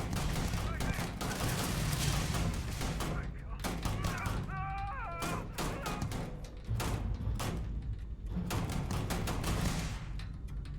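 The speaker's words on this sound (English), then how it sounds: "I have a semi-auto battle rifle for this sort of thing" Semi-auto battle rifle fire in the Starfield video game: loud, rapid shots in dense bursts, a short lull with brief tonal game effects, then more volleys of sharp cracks.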